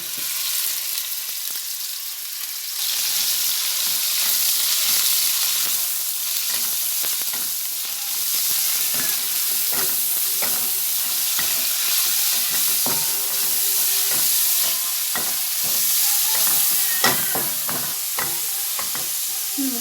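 Meat sizzles and crackles steadily in a hot pan, a continuous frying hiss with scattered pops and stirring clinks throughout, close and fairly loud with no voices.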